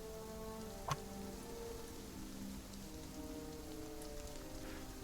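Steady rain falls in a soft continuous hiss with scattered drops, faint and even throughout, with a low tonal hum underneath and one brief knock early on.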